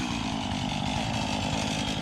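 A chainsaw runs steadily and loud at close range, cutting up a big old oak tree, its engine drone continuous without pause or voices.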